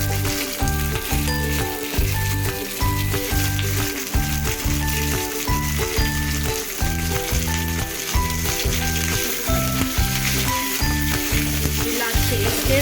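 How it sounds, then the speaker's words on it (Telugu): Onions, green chillies and curry leaves fry in a pan for upma, giving a loud, continuous close sizzle with bursts of crackle and stirring scrapes throughout and no voices. "ఇప్పుడు ఈ ఉల్లిపాయలన్నీ మగ్గుతుంది"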